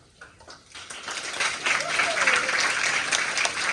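Audience applause at a high school sports awards ceremony in Tomales, a sustained round of clapping that swells after a quiet start and holds steady, heard from within the crowd.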